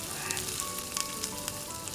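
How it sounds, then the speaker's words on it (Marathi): Grated carrot fries in ghee in a kadhai for gajar halwa, giving a steady, close sizzle with faint crackles throughout and no voices. "आता हे तुपामध्ये मी गाजर छानपैकी भाजून घेते"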